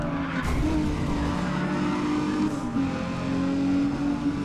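A race car in Need for Speed ProStreet drifts through a corner, tires squealing in a sustained loud screech over the roaring engine, continuous from start to finish.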